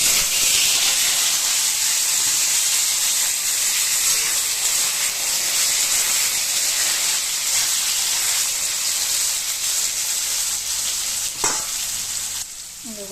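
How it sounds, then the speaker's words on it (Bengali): Potatoes frying in a pan of oil with cumin and black cumin seeds, a steady close sizzle and hiss running throughout with brief stirring clatter near the end. "তো আমার এখানে আলুগুলো আধা ভাজা ভাজা হয়ে আসছে।"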